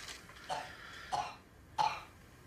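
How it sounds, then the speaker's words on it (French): Children cough in a scene from the French-language TV comedy series Les Parent: three short, separate coughs spaced about half a second apart, fairly faint against a quiet room. "Je m'habitue pas à les entendre tousser, là."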